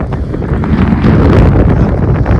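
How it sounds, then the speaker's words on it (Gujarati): Strong wind on a hilltop about 1,500 feet up in the Kadamgiri hills buffets the microphone in a steady, loud roar of low rumble that continues throughout with no voices. "પવન આવે છે બહુ પવન"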